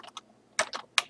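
Computer keys are typed in sparse clicks: two light taps, a pause, then a burst of several louder close strokes, with no voice over them.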